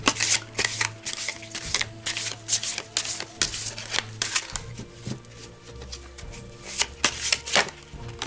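Tarot cards being shuffled by hand, a quick run of crisp riffling flicks and taps, close and clear, with short pauses between bursts and no talking.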